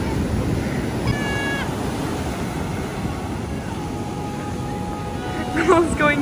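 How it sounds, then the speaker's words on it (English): Big ocean waves breaking on a San Diego beach give a steady, loud roar of surf throughout, with a brief swell near the end and voices talking faintly over it. "Buddy, those waves are too big for you."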